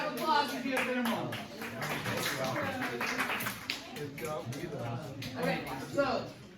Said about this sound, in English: Round of applause for geothermal.